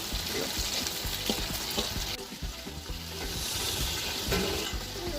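Biryani ingredients frying in a pan give a dense, crackling sizzle with busy low clatter, likely stirring, and a brief dip midway before the frying noise swells again.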